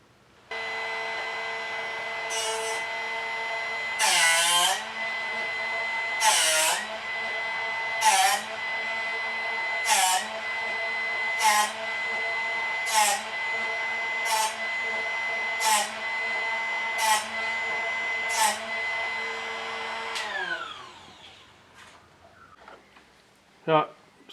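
A Drill Doctor grinder sharpening a drill bit: a steady motor whine with repeated regular grinding bursts every couple of seconds as the bit is turned against the wheel, then the motor winds down.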